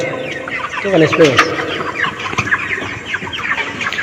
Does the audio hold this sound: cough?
no